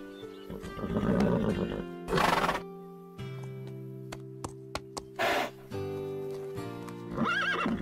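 An animated horse whinnies several times, loud and near, its shrill neighs mixed with snorts and hoof clip-clops over a sustained musical background.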